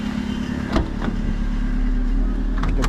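A 2008 Perodua Myvi 1.3 EZ automatic engine runs steadily at idle, a low continuous hum with a couple of brief clicks or knocks near the start, close to the listener and without talk.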